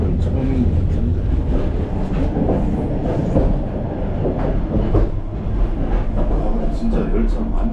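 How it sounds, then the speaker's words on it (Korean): Sleeper train from Hanoi to Lao Cai in Vietnam rolling slowly along the rails, a steady loud rumble with faint clickety-clack from inside the carriage, continuous throughout. "열차가 그렇게 빠르지 않은 속도로 가고 있네요"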